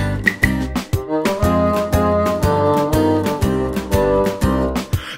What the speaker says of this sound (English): The clave sounds like this.